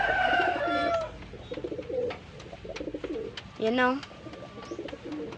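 Pigeons coo as a pair bonds, with low repeated calls running under someone speaking Tagalog, and a louder rising call breaking through near the middle.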